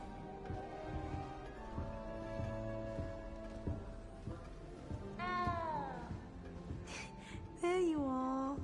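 A cat meows several times near the end, one drawn-out meow followed by a rising, wavering one, heard over background music and ambience.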